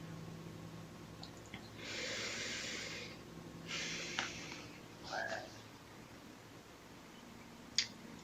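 Slow breathing in guided meditation, faint and close: two long soft breaths, then a brief sniff and a short breath, with light clicks and a quiet hum underneath and no talking.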